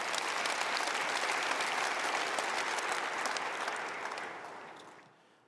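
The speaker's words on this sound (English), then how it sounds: "give them a round of applause" A large crowd at a Jackrabbit football championship celebration claps in a full, sustained burst of applause that holds strong and then fades away at the end.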